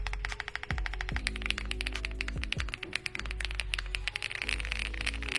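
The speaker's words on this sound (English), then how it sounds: "Under the hood are the Palm Blizzard switches, which sound like this." Rapid, crisp clacking of a full-size mechanical keyboard with Palm Blizzard switches, typed in quick bursts, close and clear, with no voices.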